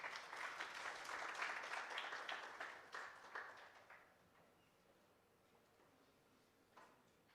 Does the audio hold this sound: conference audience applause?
yes